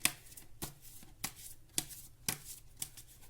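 Tarot cards being shuffled by hand, with about six evenly spaced crisp riffles and slaps close by in a quiet room.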